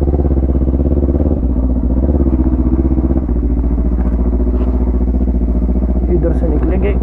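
Kawasaki Ninja 300 motorcycle being wheeled out and started, its steady mid-range engine hum running loud and close throughout, with people talking over it.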